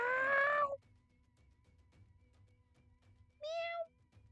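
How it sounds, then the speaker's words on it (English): Two distinct cat meows ring out near and loud, a longer insistent cry first and a shorter one a few seconds later, with quiet room tone in between. "My cats are being particularly noisy today."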